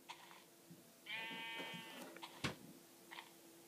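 A sheep in Minecraft Pocket Edition lets out a single wavering bleat, with a few soft clicks and taps from the game around it at low volume.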